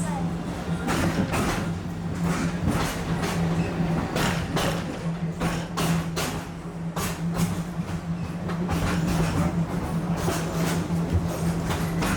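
A ride train at Disney's Animal Kingdom, Walt Disney World, rolls steadily along its tracks with a continuous rumble, a low hum and repeated clacking, loud and close throughout.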